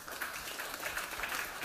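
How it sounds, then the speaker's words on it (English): An audience at a press conference for a web series applauds in a brief, brisk burst of many hands clapping, dense and fairly close, with no voices over it. "Round of applause, ladies and gentlemen."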